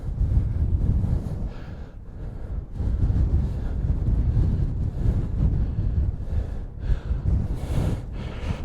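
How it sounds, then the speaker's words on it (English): Strong wind buffeting the microphone on the Pendle Hill hilltop, a loud, continuous roar with gusty swells and dips throughout. "Oh, that wind's brilliant"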